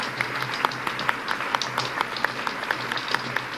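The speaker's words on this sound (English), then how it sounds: "please, a round of applause for our speakers" A crowd applauding speakers at Frontier Expo 17, many hands clapping at once in a dense, even patter from a medium-sized audience.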